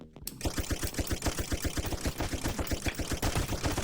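Rifle gunfire in the zombie survival game Zombie Raid: No One Survives rattles in a rapid automatic stream of sharp, evenly spaced shots, loud and close, starting abruptly and sustained to the end.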